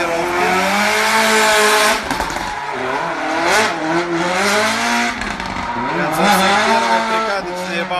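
A drift race car on a training run at stage 2 of the 2019 Russian Drift Series GP keeps its engine howling loudly. Long tire squeals rise and fall across the whole stretch.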